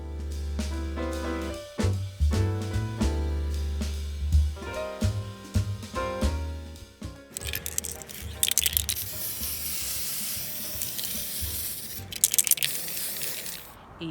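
A spray paint can hisses in long continuous bursts as a book cart is painted, after a stretch of music, with the harsh spray loud and close and a few short pauses between passes.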